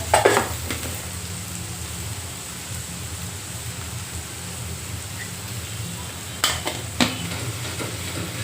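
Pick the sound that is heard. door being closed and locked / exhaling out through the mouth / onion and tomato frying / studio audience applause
onion and tomato frying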